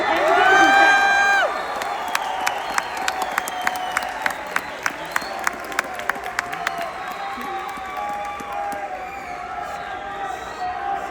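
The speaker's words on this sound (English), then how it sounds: "Can we give them 1 clap, 2 claps, 3 claps?" Crowd at a youth academy graduation ceremony in Los Alamitos, California applauds its teachers and education staff: a short burst of cheering and whoops, then a few rhythmic claps in unison, with a speaker's amplified voice over a hall.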